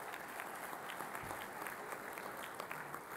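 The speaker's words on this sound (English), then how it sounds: "Give yourselves a round of applause" An audience at a mayors' and business leaders' plenary breakfast claps in steady, even applause, a continuous dense patter of many hands at moderate distance.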